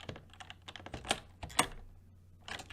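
Keys clatter on a computer keyboard in quick irregular bursts of typing, close and fairly quiet, with short pauses between the runs.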